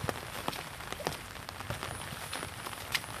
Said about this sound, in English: Still have rain now, but not a lot.